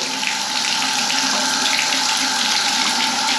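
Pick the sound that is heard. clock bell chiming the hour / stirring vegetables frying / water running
water running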